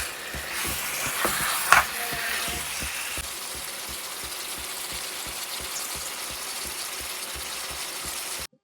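Food for chicken tikka masala fries in a pan with a steady broadband sizzle throughout, joined early by a few sharp clinks and ticks of a utensil, with no talk.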